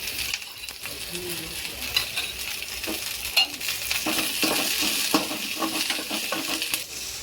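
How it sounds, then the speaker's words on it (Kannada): Onions fry in hot oil for a chicken sambar, with a steady close sizzle and frequent scraping stirs of a utensil against the pan running throughout. "ಈಗ ಸ್ವಲ್ಪ ಎಣ್ಣೆ ಹಾಕೊಂಡು ಫ್ರೈ ಮಾಡ್ಕೊಳ್ತಿದ್ದಾರೆ"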